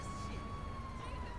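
An ambulance siren in the video game GTA V wails steadily as a sustained tone under a constant background din, with no clear break across the short span.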